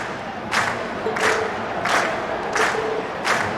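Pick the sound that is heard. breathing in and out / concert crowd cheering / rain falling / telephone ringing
concert crowd cheering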